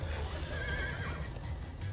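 A horse in the Minecraft Story Mode video game whinnies loudly over a dense, steady game soundscape with a low rumble and faint hoof clatter, filling the short stretch without any talk.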